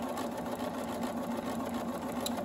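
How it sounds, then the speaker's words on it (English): A sewing machine stitches a diagonal seam line in a steady, fast mechanical whir, close and fairly quiet with no talking. "I'm gonna sew that line"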